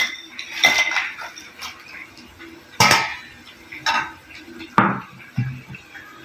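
Fried tempeh mendoan set onto a plate in a home kitchen, several separate clinks and clatters of cutlery and dishware spread across the moment, close and fairly sharp, with faint background murmur.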